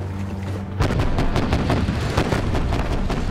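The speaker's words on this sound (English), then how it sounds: "Shoot that artillery!" Artillery fire in a CGI animated short film: after a brief low engine hum, a sudden heavy barrage of booming, rapid blasts erupts and continues loud and dense to the end.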